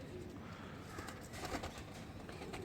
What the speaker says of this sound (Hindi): ये कबूतर हैं जी जो कि यहाँ पे मैंने आपको दिखाने थे